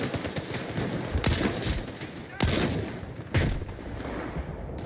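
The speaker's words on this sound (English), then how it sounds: "That is a nice grenade." Gunfire and heavy grenade blasts in the video game S.T.A.L.K.E.R. 2: Heart of Chornobyl, with a dense, continuous rattle of shots broken by three loud explosive bursts, all fairly quiet overall.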